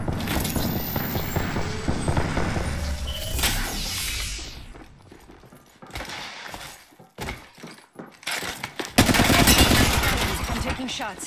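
Video game gunfire rattles in bursts of rapid shots, some with a shattering, breaking edge, as chaotic battle noise rises and falls in loudness.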